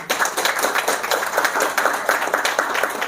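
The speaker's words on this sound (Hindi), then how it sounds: "एक बार ताली बजाओ अच्छी तरह।" Audience claps steadily and fairly loudly at a spiritual discourse in Dumka, Jharkhand, a dense run of overlapping hand claps with no break and no voice over it.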